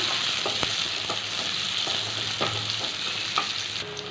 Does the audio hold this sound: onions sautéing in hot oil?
yes